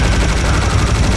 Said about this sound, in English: So maybe I'll use the laser gun.